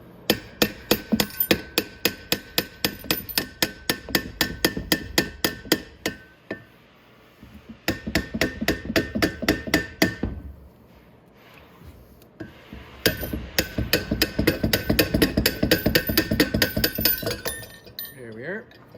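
Rapid metallic hammer taps ring out on a motorcycle part during a Venom 250cc Villain chopper restoration, in fast, even bursts with short pauses between them.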